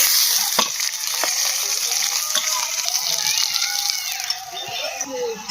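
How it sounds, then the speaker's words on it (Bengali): Fish fries in oil in a pan with a loud, close, constant sizzle, broken by a few sharp spatters and scraping stirs. "মাছগুলো ভেজে নেব।"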